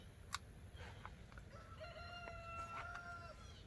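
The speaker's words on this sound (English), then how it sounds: "My rooster's crowing in the background" A backyard rooster crows faintly in the background, a drawn-out call rising and holding over a soft outdoor rumble, distant and quiet beneath the surroundings.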